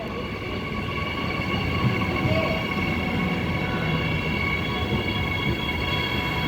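A Transit EMU electric multiple-unit train, set EMU74, at Clarkson station, a steady rumbling rail drone with faint tonal hum, continuous and fairly close throughout with no talk.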